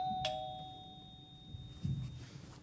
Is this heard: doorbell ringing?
yes